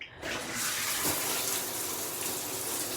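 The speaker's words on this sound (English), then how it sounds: "And now we can take our rain shower." A rain shower head runs in a tiny home, a steady close spray of falling water that starts just after a short quiet moment and then pours on evenly throughout.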